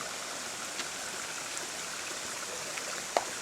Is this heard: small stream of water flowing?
yes